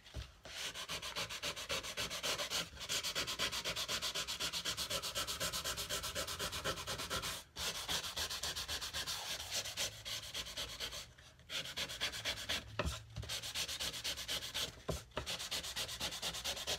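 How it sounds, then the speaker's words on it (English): Fine grit sandpaper rubs back and forth over a wooden cigar box guitar body in a steady, close rasping stroke, pausing briefly a few times. "I'm gonna sand just a little bit more here. I'm gonna get my fine grit sandpaper."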